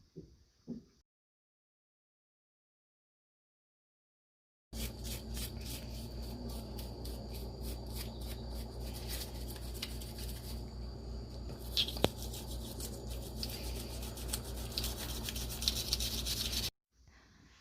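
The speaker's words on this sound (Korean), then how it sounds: "칫솔로 깨끗하게 닦아줍니다." Steady scratchy scrubbing of a toothbrush against an abalone shell, continuous and close, running for about twelve seconds after a quiet start, with no talking.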